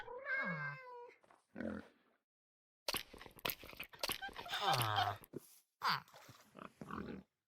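Meowing from a cat in the Minecraft video game, with several short harmonic mews heard near and clear, the loudest around the start and the middle, while people talk over and between them.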